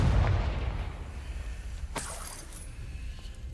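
A Confringo blasting spell goes off in Hogwarts Legacy, a loud low boom right away that rumbles and fades, then a sharper burst with crackling debris about two seconds in, all over a steady game background.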